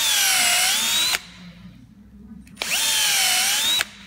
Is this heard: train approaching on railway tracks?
no